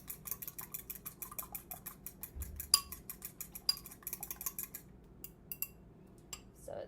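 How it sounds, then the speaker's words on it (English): Eggs beaten in a bowl with a fork for a breakfast sandwich, rapid light clinking and ticking of metal on the bowl, quiet and close, followed by a few scattered taps. "I take it and I just kind of whisk it until that yolk is all broken up."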